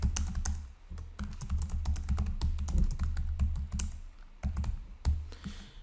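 Close computer keyboard typing, rapid irregular keystrokes entering a file title in an office setting, with brief pauses between bursts.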